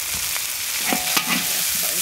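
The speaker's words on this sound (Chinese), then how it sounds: "给它炒一香，炒一会儿就急" Salted chili spits and sizzles in a hot wok as it is stir-fried, a short burst of crackling frying with a couple of quick spatula scrapes, close and fairly loud.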